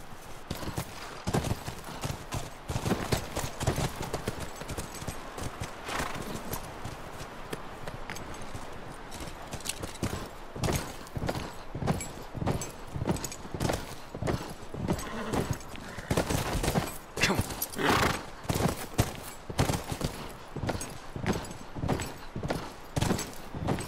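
Horse hooves clip-clopping steadily on hard ground in the video game The Last of Us Remastered, a continuous rhythmic trot with some louder, closer strikes, over faint background noise.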